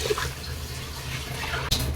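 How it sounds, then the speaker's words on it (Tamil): Water being poured into a pressure cooker for veg biryani, a steady close splashing stream lasting about two seconds with a brief clink near the end. "இப்போ நம்ம 6 டம்ளர் தண்ணி ஊற்றியாச்சுங்க"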